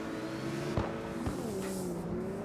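Car engine in the drifting video game CarX Drift, a steady revving drone that shifts pitch up and down with brief thumps, moderately loud with no talk.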